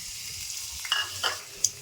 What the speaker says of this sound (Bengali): পেঁয়াজ কুচি রসুন কুচিটা ভাজা দিয়ে দেব